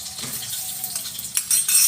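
Red curry paste stir-fried in a pan for a spicy Thai seafood dish, with soft scraping and stirring over a light sizzle, a few louder clatters near the end.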